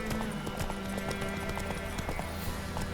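Roach the horse galloping in The Witcher 3, a steady rapid clip-clop of hooves on the ground, loud and continuous under a constant ambient bed.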